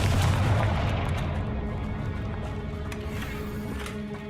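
Spell explosions from Bombarda and Confringo in the video game Hogwarts Legacy, a loud booming blast at the start that rumbles and fades over several seconds, with a few faint crackles trailing after.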